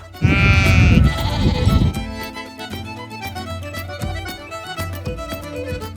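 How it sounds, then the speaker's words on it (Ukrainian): A flock of about a thousand sheep on a sheep farm bleats loudly, with several overlapping calls up close at first and then a steadier chorus that goes on with no talk. "І ось вона отара з тисячі голів."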